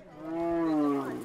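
A single drawn-out moo from cattle kept as tribal wealth in Sudan, close and fairly loud, rising and falling over about a second with no talk.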